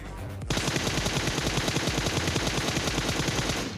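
An M249 machine gun fires a sustained burst in a battle royale video game, rapid evenly spaced loud shots hammering without pause after a brief quieter lead-in, with no talking over them.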